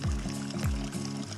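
Natural spring water pours and flows steadily from a trailside source near Deep Creek Hot Springs on the Pacific Crest Trail, a close, continuous splashing gush with a low rhythmic gurgle and no talking.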